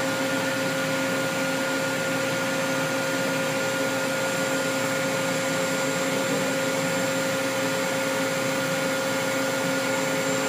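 A Cincinnati Avenger 250MT CNC lathe spindle runs at speed, a steady close whine with constant tonal hum and even mechanical noise throughout.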